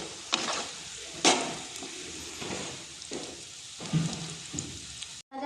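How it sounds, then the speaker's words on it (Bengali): Onions frying to a deep red in oil in a kadai for chicken rezala, a steady close sizzle with scraping stir strokes near 0.3, 1.2 and 3.8 seconds, then a brief cut to silence before the end. "খুব লাল লাল করে ভেজে নিয়েছি। এখন আমি পেঁয়াজটা তুলে নেব।"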